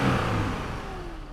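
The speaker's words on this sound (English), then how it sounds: "Where there is a 420 horsepower V8 engine," A 420-horsepower V8 car engine revs hard in a short, loud burst that gradually eases off as it winds down, with no voices.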